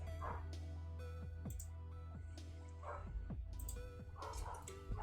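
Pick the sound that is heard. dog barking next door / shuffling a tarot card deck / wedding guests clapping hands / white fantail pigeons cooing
dog barking next door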